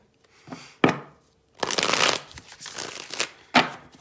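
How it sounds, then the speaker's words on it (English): Brisk riffling and snapping of tarot cards being shuffled, several bursts with short pauses between, close and crisp, no voices. "All right, one more shuffle. We're going to put the cards down."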